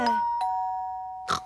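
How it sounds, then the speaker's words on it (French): A doorbell chimes a clear two-tone ding-dong, the ring sustaining and fading, with brief knocks or bumps at the start and end. "Et ça, c'est la sonnette. Ça veut dire qu'il y a quelqu'un à la porte."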